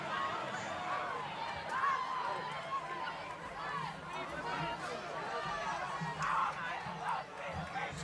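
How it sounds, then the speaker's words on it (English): Avondale fans at a 2014 high school varsity football game, a loud crowd murmur with a rumble underneath and a commentator talking over it throughout. "It's been a loud Avondale crowd of late."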